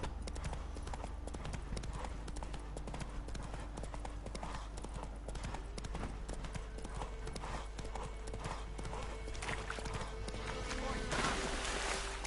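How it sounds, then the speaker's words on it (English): Hooves clip-clop steadily as a horse is ridden through swampy ground in The Witcher 3, a continuous rhythmic gait over a low ambient hum, with voices speaking over it. "This is why you don't ride your horse through a swamp."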